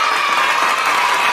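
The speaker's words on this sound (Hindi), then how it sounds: "बच्चों बजाओ ताली" Children clapping along in a kids' alphabet song: brisk crowd-like clapping mixed with the bright, sustained tones of the song's music, loud and close.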